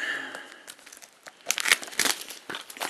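A Jak and Daxter HD Collection game box being cut open: crinkling and tearing of packaging, quiet at first, then a burst of louder ripping and crunching bursts close to the listener.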